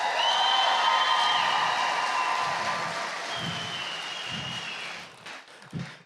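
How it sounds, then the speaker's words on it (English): An audience at a horse trainers' showdown whoops and cheers loudly all at once, a dense roar of voices and applause that holds steady for several seconds before tapering off. "everybody whoop it up as loud as you possibly can for 1 second"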